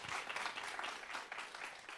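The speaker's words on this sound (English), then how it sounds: "I think that deserves a round of applause." Faint audience applause at a health disparities conference, a brief, even patter of many hands clapping from a distance for about two seconds.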